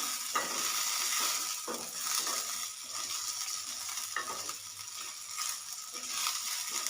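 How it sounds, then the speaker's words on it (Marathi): Cumin seeds roasting in a pan give a soft, continuous crackling sizzle, with occasional spatula scrapes and taps at close range. "यामध्ये आपल्याला अर्धा चमचा जिरे घालायचे ते घालूया छान भाजून घेऊया"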